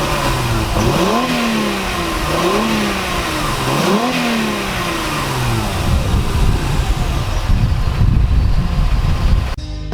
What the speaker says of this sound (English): it's also got a pretty nice engine note